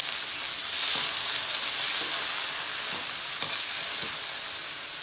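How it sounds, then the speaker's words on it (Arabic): Tomatoes fry in a pan without oil, giving a loud, continuous sizzle with faint stirring scrapes, close and steady with no talking. "لحط هلا البندورة وقليها هيك بدون زيت"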